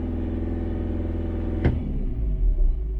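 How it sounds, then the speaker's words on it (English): A car engine runs at a steady low rumble during a diagnostic check. After a sharp click it is given a brief, modest rev, and the rumble swells slightly before settling. "So let's give it a little bit of revs."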